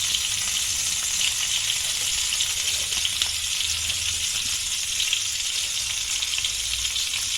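Boiled chicken sausages fry in hot oil with a steady, loud, crackling sizzle that holds without pause, spitting where water meets the fat.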